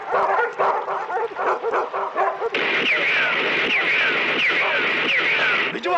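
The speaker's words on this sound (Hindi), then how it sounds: "ये कुत्ते शंकर के वफादार थे" Several dogs bark and yip in a film scene, with sharp repeated barks over a busy background, then continuous loud yelping and whining that fills the second half.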